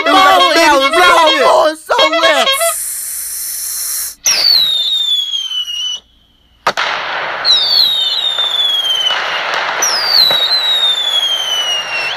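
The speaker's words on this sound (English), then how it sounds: "we're lighting some fireworks" Fourth of July fireworks go off in a series of whistling, crackling bursts, preceded by people talking and cheering; the bangs repeat every couple of seconds, loud and close.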